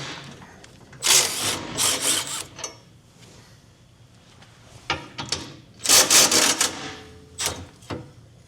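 Bolts holding the spare tire bracket on a 2024 Chevrolet Colorado being backed out with a power tool, two loud bursts of whirring and rattling separated by a quieter pause, close up.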